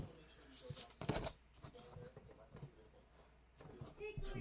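Tarot deck being cut and shuffled by hand, a few soft card riffles and flicks close by, quiet and brief, with a voice speaking over part of it.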